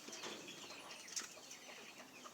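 Jamaican fowl, a rooster, gives soft, faint clucks and scattered short calls outdoors, with light rustling and no talk over it.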